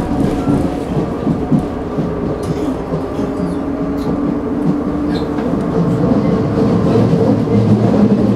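A funicular railway car pulls away from the lower station, its heavy rolling rumble and rail clatter building steadily and close throughout.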